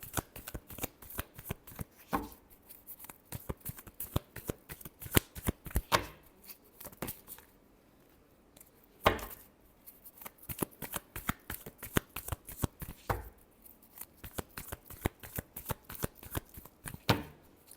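A tarot deck is shuffled by hand in a quiet room, with quick riffling clatter in repeated bursts separated by brief pauses, close and fairly soft.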